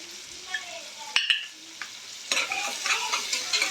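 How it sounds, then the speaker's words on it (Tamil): Onions sautéing with salt in a pan for a mutton white gravy, a steady close sizzle broken by sharp spoon scrapes and clinks, growing louder and busier in the second half. "வெங்காயத்தை நல்லா வதக்கிக்கிறோம்."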